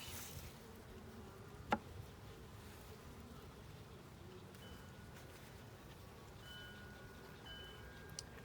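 Honeybees hum softly around a backyard hive at midday, a faint continuous drone with a single sharp click partway through.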